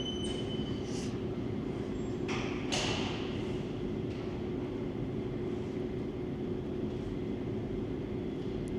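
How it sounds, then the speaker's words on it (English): A GO commuter train rolls past in downtown Toronto on a winter morning, a steady low rumble of wheels and cars with a few brief wheel squeals, heard from nearby and without talking. "Let's watch this GO train roll by."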